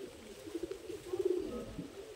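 Madrasi pigeons cooing, a few soft low murmuring coos rising and falling over about two seconds, fairly faint and close, with no voices.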